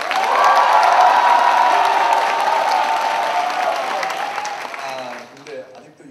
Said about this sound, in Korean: 박수 한번 쳐보세요.